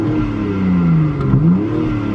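A BMW X3 M Competition engine gets a quick throttle blip at idle, its revs rising into a loud, smooth rasp and falling back to a steady burble, with no overrun crackles.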